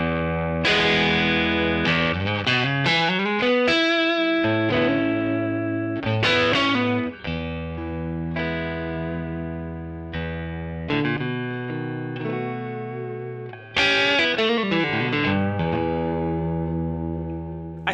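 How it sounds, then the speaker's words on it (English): Stratocaster electric guitar played straight into a Kemper amp profile with no other effects, ringing chords and picked notes with a slightly driven, shimmering tone, loud and alone. "it's just my Strat going right into the Kemper."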